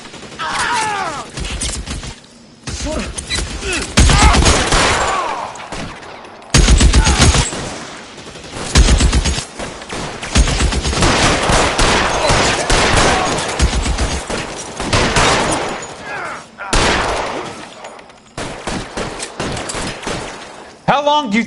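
Loud gunfire in an L.A. Noire shootout: dense bursts of shots and automatic fire come in waves across the scene, with brief lulls between them and shouting voices over the top.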